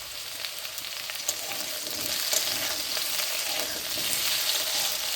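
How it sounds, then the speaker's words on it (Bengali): Potatoes fry in oil until reddish-brown, giving a continuous close crackling sizzle with scattered pops and faint stirring, rising slightly in intensity over the few seconds. "আলুগুলো লাল লাল করে ভাজা হয়ে গেছে, এখন আমি আলুগুলো তুলে নেব।"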